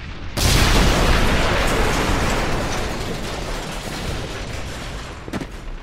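A grenade explosion in the World War II shooter Medal of Honor: Airborne hits with a sudden loud boom, then a long rumbling roar slowly fades, ending in a few faint clattering knocks.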